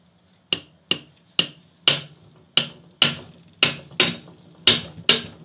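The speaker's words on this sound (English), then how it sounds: "lightly tap with the hammer" A hammer taps lightly on a small engine part during a teardown, giving about ten sharp metallic knocks in an uneven, fairly steady rhythm, close and crisp with brief ringing decays and no talking.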